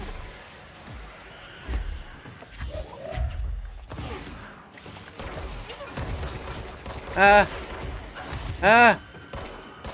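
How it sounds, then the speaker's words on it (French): Pistol bursts in the video game Control, two loud, sharp bursts near the end over a busy mix of game sounds, with a man calling out short exclamations. "J'aime bien ce pistolet en la rafale."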